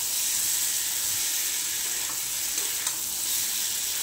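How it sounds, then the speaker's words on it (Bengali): Potatoes with coriander and cumin powder sizzling steadily in a pan for aloo dum, a loud continuous hissing fry with occasional scrapes of stirring. "আলুটা মশলাটা ভালো করে কষা হয়ে গেছে"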